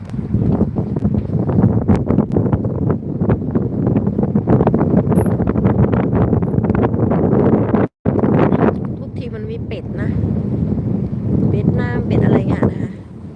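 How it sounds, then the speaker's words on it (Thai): Strong wind by the river at Ebensee, heard mostly as a constant roar and buffeting against the microphone, with someone talking over it and a short dropout midway. "ลมมันแรงมั้ง"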